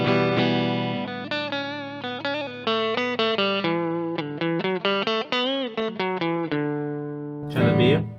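An electric guitar plays a melodic run of notes through the slightly cleaner channel B of a Simplifier DLX amp with room or plate reverb, sustained tones ringing out close and clear, ending in a brief noisy burst.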